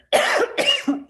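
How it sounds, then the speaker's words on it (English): A woman's harsh, close coughing fit in two loud bursts, the second trailing into a throaty rasp, set off by a deep inhale during an online call while she is unwell after COVID. "Deep inhaling causes me to cough."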